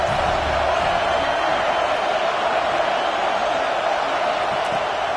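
Stadium crowd noise in a college football video game rolls on as a steady, dense roar at even loudness throughout, with no distinct cheers standing out.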